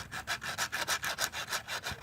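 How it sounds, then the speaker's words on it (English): Sandpaper rubbed back and forth over a part of a Mac Tools OBDII TaskMaster scan tool, about ten even, rhythmic scraping strokes close up, with no talking. "So I'm just going to do this with some sandpaper."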